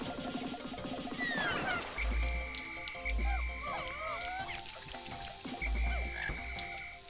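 Repeated low frog croaks from the video game Pikmin 2, three strong throbbing bursts spaced a second or so apart over busy game music and chirpy effects.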